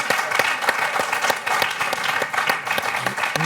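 A studio audience on a French TV quiz show claps throughout, dense and steady applause that stays loud for the whole few seconds, with no one speaking over it.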